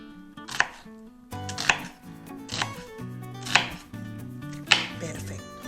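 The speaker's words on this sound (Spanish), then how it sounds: "Tengo ya las cebollas acá peladas y se pica de esta manera." A knife chops peeled onions into fairly thick pieces on a board, with about five sharp, close, evenly spaced strikes and faint clatter between them.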